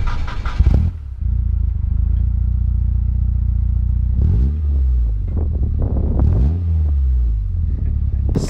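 A car fitted with a Greddy 3-inch exhaust idles with a deep, loud rumble, then gets two sharp revs that rise and fall back to idle, close to the mic.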